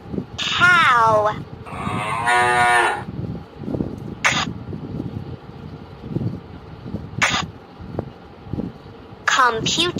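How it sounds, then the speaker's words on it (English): A cow moos in a cartoon alphabet lesson, with one long bellow and a second drawn-out call near the start, then shorter bursts scattered through a noisy background. "Cow."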